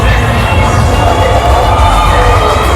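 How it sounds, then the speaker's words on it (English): Lively crowd noise outside competing nightclubs on Khao San Road, Bangkok, with young people in their twenties: a loud, steady wash of cheering, shouting and babble, with heavy low club bass thumping beneath throughout. "So these clubs here seem to be particularly alive with activity"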